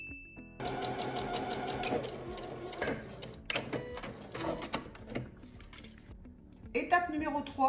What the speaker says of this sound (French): Je vais réaliser un petit point d'arrêt et je vais aller coudre jusqu'à la partie ici.